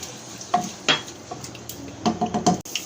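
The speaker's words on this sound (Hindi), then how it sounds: "ऑनियन को हम फ्राई कर लेंगे" Onions frying in hot oil in a handi for chicken biryani, with scattered scraping and stirring clatter from a utensil against the pot over a soft sizzle.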